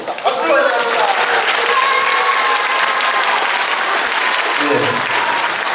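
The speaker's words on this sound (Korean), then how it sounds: "박수로 환영합니다." An audience gives loud, sustained applause as a lecturer is welcomed onto the stage, dense clapping filling the whole stretch with voices faintly mixed in.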